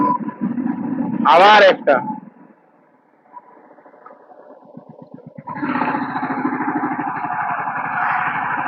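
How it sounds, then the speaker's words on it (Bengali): A Royal Enfield Meteor 350 motorcycle thumps along in high gear at low speed, its engine a rapid, even pulse that starts after a short creak and brief quiet, with someone speaking near the start. "আমার গাড়ির সাউন্ডটা একটু হাই গিয়ারে লো স্পিডে ধুক ধুক ধুক ধুক ধুক ধুক"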